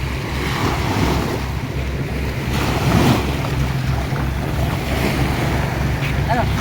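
Waves wash steadily onto the shore in a continuous surging roar, with wind buffeting the microphone throughout; no one speaks.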